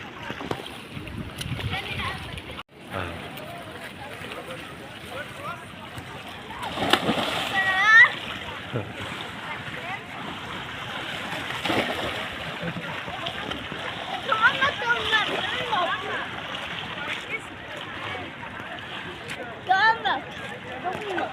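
A child jumps into shallow sea water in the Maldives, making a clear splash partway through, with more water sloshing and smaller splashes around it. Adults and children talk throughout.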